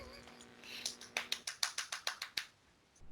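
About a dozen sharp, evenly spaced hand claps from one person in a quiet room, slowing slightly before a final clap.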